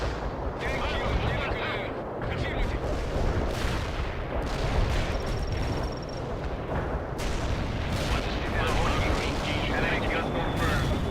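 Anti-tank missile strikes in the World in Conflict video game, a dense sustained barrage of heavy booming explosions and rumbling impacts, loud and continuous, with game voices mixed underneath.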